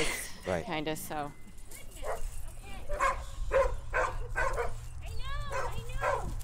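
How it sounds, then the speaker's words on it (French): English Springer Spaniel search dogs give several short barks and yips near the start, then whimpering sounds continue under steady talk over a low background rumble. "c'est elle qui va s'occuper de Orva et Duchesse, les 2 Springer anglais qui vont fouiller le terrain pour nous aujourd'hui"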